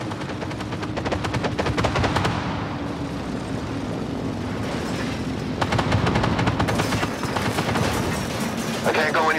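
Gunfire from the tank combat game Armored Warfare rattles in rapid bursts over a low rumbling engine drone, with dense automatic fire at the start and again near the end, while a voice speaks faintly underneath.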